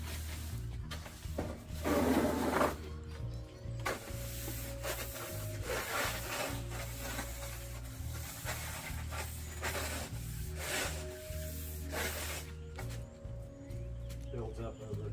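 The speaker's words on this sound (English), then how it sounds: "Some scrubbing here. And all kinds of dirt between these soffit ridges." Brisk back-and-forth scrubbing works dirt out of the ridges of a soffit, a steady close rubbing with one harder burst early on, under a constant low hum and what sounds like a voice in the background.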